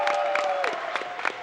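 Chuck enemy clapping in Super Mario World, a quick run of sharp, regular game claps repeating at close range with a steady electronic tone underneath.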